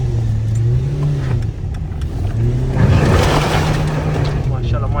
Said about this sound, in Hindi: ध्यान से और गाड़ी आ रही है।